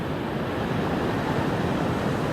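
Water rushes steadily through a small hand-dug breach in a natural pond dam, heard as a dense, continuous close-up roar like surf that holds even without pause, with no voices.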